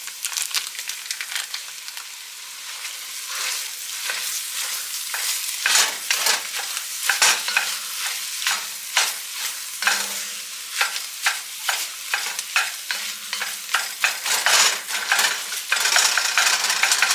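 Sausage and green bell pepper sizzle in a pan while a utensil stirs and scrapes at irregular intervals, the frying a steady hiss and the stirring a series of close, sharp scraping strokes.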